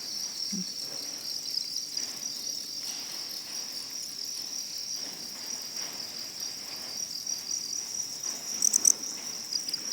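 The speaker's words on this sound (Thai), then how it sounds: "อันนี้จะเป็นจิ้งหรีดพันธุ์ทองดำทองแดงค่ะ" Golden-black and copper cricket breeds in a farm breeding pond chirp in a steady, continuous high trill that runs unbroken throughout, with a few brief clicks near the end and no talking.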